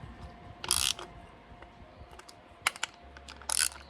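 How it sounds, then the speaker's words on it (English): Ratchet tightening bolts on a Mazdaspeed 3 during a serpentine belt replacement, giving a few short bursts of rapid clicking separated by quiet pauses, close and moderately loud. "Just going to take our standard ratchet."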